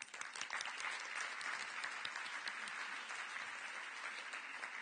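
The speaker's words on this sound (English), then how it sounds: "Please give Jordan Casey a warm applause" Conference audience gives a warm round of applause as a young speaker is welcomed, dense crowd clapping that stays steady and fairly loud for about five seconds.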